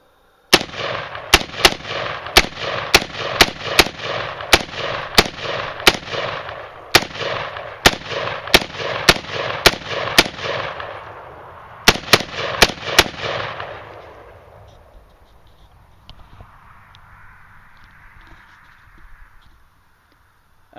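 A KelTec PLR-16 pistol fires at night, roughly twenty sharp, loud shots in a fast uneven string with brief pauses, then the echo fades into quiet outdoor ambience.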